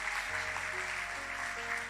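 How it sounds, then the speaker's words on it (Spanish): A church congregation applauding during a Spanish-language service, a dense wash of clapping under a sustained organ or keyboard chord. "Dale un fuerte aplauso al Señor."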